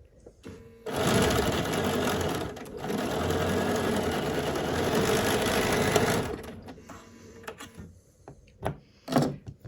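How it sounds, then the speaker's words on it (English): A sewing machine stitches quilt block fabric pieces in a steady, fast whirring run for about five seconds, then stops, followed by scattered handling clicks and knocks. "We're going to sew that piece."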